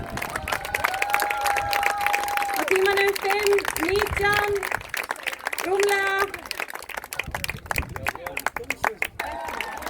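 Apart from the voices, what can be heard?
spectators applauding runner at race finish line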